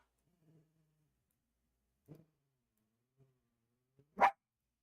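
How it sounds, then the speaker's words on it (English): Dog barking in the Roblox Adopt Me game: a few faint, soft yips spaced out, then one loud, sharp bark near the end. "I'm woofing."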